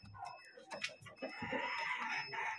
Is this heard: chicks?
yes